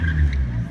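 A Nissan Skyline R32 engine revs hard during a street drift, a brief loud, close roar with tire noise and no talk.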